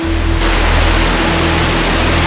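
Kuang Si Falls in Laos gives a dense, steady roar of falling water, loud and close, with no talking.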